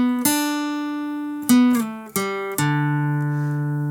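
Several plucked guitar notes from a song's solo in a slow melodic line, with slides between pitches and a final note left ringing, clear and solo.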